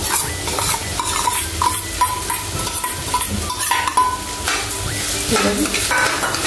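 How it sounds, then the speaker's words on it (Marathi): Washed rice and fried field beans being stir-fried in a pan, a steady sizzle with repeated scraping strokes of a spatula against the metal throughout, close and fairly loud, no talking. "आणि पुन्हा एकदा ते सगळं आपल्याला चांगलं असं परतून घ्यायचं आहे।"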